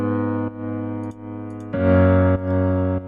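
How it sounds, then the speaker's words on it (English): Sustained piano chords change a few times over several seconds, each held steadily and fairly loud, with no voices. "The piano sounds like this."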